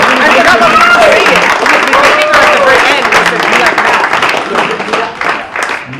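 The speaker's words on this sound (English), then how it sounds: "We all give yourselves one big round of applause for pulling that out." An audience at a startup weekend final pitch event bursts into loud, dense applause with a few whoops and voices, sustained before thinning and fading toward the end.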